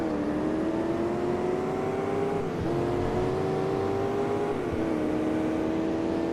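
A race car's engine drones steadily through a lap in the Crash Time 3 driving game, a loud continuous hum that rises slightly in pitch, dips briefly at gear shifts, then climbs again, with no talk.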